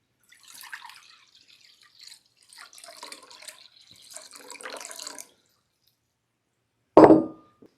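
Water trickles and splashes intermittently into a bowl for several seconds, then stops, followed by a single sharp clunk of something set down.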